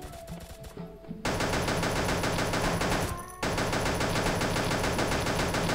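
Flame gun firing in the Pixel Gun video game, rapid continuous bursts of crackling fire, with a brief pause after a short opening and another gap midway before firing resumes loud and sustained.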